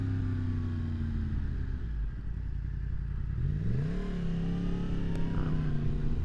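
A 2023 Yamaha MT-10 motorcycle with its air injection system deleted and a fuel-cut eliminator tune idles loudly, then revs up and settles back to a rumbling idle, close and steady with no voices.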